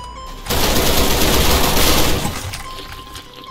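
A video-game magazine dump: a dense, loud stream of automatic gunfire rattles without pause for about a second and a half, then cuts off and leaves a fading ring.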